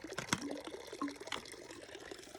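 Fresh cold mountain water running into a bottle during a spring hike in the Dolomites, a faint, close trickle and gurgle with a few small splashes and no talk.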